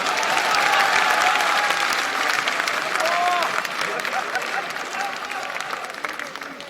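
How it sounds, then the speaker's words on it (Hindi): Dense, sustained applause from a large crowd at a political rally in India, loud and steady throughout and easing slightly toward the end, with faint crowd noise mixed in. "अब इस पे तो कम से कम ठोको ताली।"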